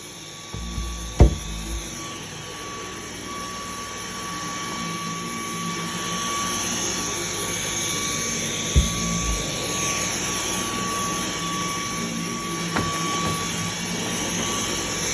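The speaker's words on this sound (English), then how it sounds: "Now when I'm actually vacuuming, I like to go up and down in a grid-like motion." A household vacuum cleaner runs steadily while hoovering a floor in a grid-like up-and-down pattern, a continuous motor whine with a few brief knocks as it moves, loud and close throughout.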